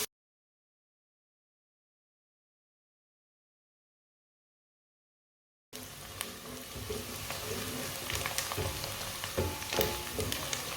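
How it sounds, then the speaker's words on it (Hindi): Finely chopped onion sizzles and fries steadily in a hot pan while being browned lightly, a continuous crackling hiss with occasional stirring clicks, after several seconds of silence. "प्याज को हल्का सा ब्राउन कर लेंगे"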